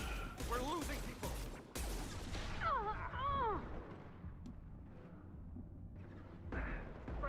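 Mass Effect combat, with bursts of gunfire and crashing impacts mixed into a busy battle soundscape. Voices talk over the shooting and the action swells and fades.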